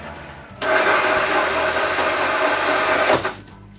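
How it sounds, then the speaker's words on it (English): A drill bores a big hole into a wooden shoe rack base, giving a loud steady whirring burst of about two and a half seconds that starts and stops abruptly. "The last hole to drill is the big hole in the base."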